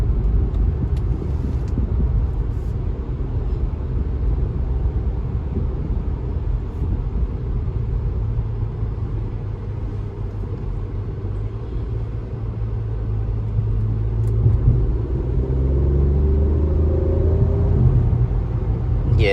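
A 2021 Acura TLX Advance cruises along a road, its engine a steady low rumble with road noise filling the cabin, rising slightly toward the end as the car accelerates.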